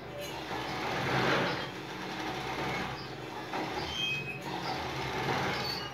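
Sewing machine stitching lace lingerie, a G-string panty, in a continuous rattling whir with slight speed changes throughout, close and fairly loud.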